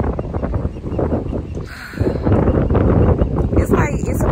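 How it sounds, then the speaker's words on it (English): Strong wind buffets the microphone on Clearwater Beach, loud gusty rumble and roar swelling and easing, with a person talking under the noise. "Hopefully y'all can hear me with all this wind going on."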